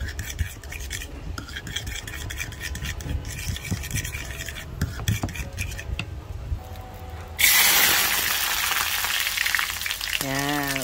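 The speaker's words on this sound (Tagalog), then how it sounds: "magluluto tayo ng french fries" French fries drop into hot oil and fry with a loud, steady crackling sizzle that bursts in suddenly and keeps hissing near and close, following a stretch of clinking kitchen prep noises.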